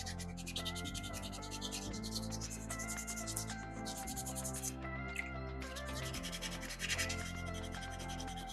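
Soapstone is gently rubbed and filed by hand to shape a small shark carving, a soft, continuous scraping that stays quiet and close.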